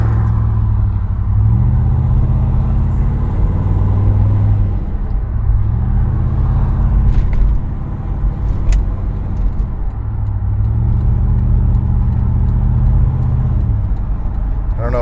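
A 2005 Lincoln Aviator fitted with a 2003–04 Cobra engine pulls hard from a standstill toward 100, its loud, steady engine drone rising in repeated gear-by-gear sweeps from close inside the cabin.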